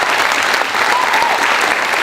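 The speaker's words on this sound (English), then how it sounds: "It's a big round of applause." Dense, steady audience applause fills a hall during a HALO club evening event, loud and continuous with no pauses and no voices standing out.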